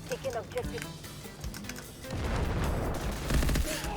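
Delta Force shooter gunfire rattles in dense bursts from several enemies under excited talk, with mouse and key clicks early and a heavier, louder stretch of sustained firing in the second half.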